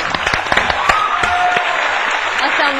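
Studio audience on a Pakistani talk show applauding a guest's arrival, a steady wash of clapping with a few sharper claps, with a voice talking over it partway through.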